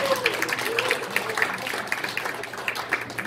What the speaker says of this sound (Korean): 예, 큰 박수 부탁드립니다.